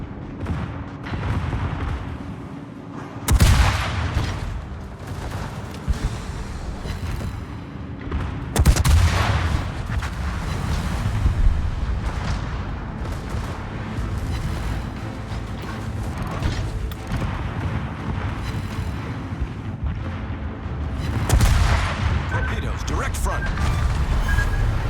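Naval cruiser guns firing in World of Warships, with several heavy booming salvos spaced many seconds apart over a constant rumbling game soundscape, while someone talks throughout.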